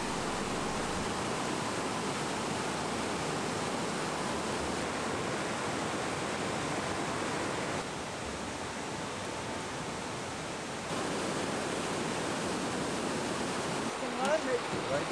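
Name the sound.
mountain torrent rushing through a gorge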